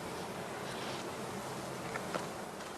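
Honey bees at a heather skep apiary in spring: a faint, continuous hum of many insects buzzing, soft and steady from a short distance, with no talk over it.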